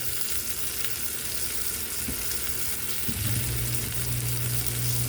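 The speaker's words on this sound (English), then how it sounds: "See, they getting that sear." Oxtails searing in a hot pan give a steady, loud, close sizzle that holds throughout, with a brief clatter partway and no talk.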